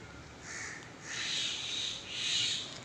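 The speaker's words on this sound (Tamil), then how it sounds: "சவுண்டு மட்டும் கேட்குது ஆனால் பறவை எங்கே இருக்குது அப்படின்னு தெரிய மாட்டேங்குது" A bird calls from a tree in three drawn-out, fairly faint cries that rise and fall, with quiet outdoor air in between.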